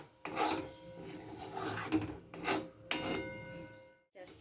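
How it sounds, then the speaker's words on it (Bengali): A spoon scrapes and rubs against a pan while mishti doi mixture is stirred slowly, in several separate rasping strokes with short pauses between them, close and fairly quiet. "আমি আস্তে আস্তে নাড়বো ভালো করে"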